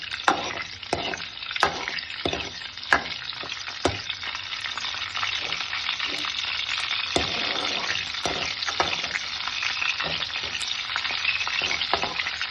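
Dried red chillies fry in oil with a constant crackling sizzle, punctuated by repeated sharp scrapes and taps of a spoon stirring the pan.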